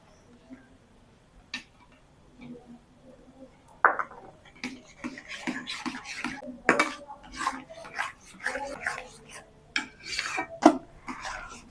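Semolina pudding with custard powder being stirred in a pot, a soft irregular scraping and tapping of the spoon against the metal, quiet at first and then steady and close.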